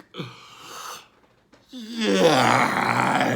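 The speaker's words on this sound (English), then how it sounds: "So I have a yawn" A person yawns: a short breathy opening sound, a pause, then a long drawn-out, rising and falling vocal yawn that is loud and close.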